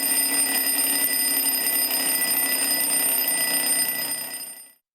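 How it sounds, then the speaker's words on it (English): Alarm clock ringing loudly and continuously with a bright, high metallic tone, close up and alone, then cutting off abruptly near the end. "Classic alarm clocks make a metallic ring, ring, ring, while digital ones usually go beep, beep, beep"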